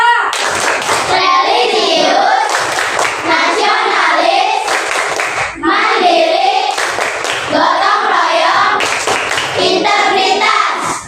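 Schoolchildren in an Indonesian classroom chant and clap a rhythmic class clap in unison, loud and close, with bursts of patterned hand claps between shouted syllables of young voices.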